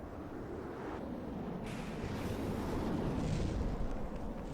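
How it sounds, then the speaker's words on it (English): Missile explosions from a naval battle in the video game From The Depths rumble as a continuous loud, dense roar of overlapping blasts, swelling in intensity midway with heavy low-end booming throughout. "he is shooting missiles"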